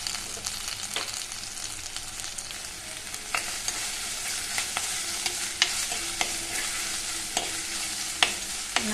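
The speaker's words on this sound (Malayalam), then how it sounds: "ഇനി കൊച്ചുള്ളി, ഇഞ്ചി, വെളുത്തുള്ളി ഇട്ട് കൊടുക്കാം. ഇത് നല്ലതുപോലെ ഒന്ന് മൂത്ത് വരണം." Shallots, ginger and garlic fry in hot oil for a tilapia curry, giving a constant close sizzle with repeated sharp scrapes and taps of a spoon stirring the pan, no voices.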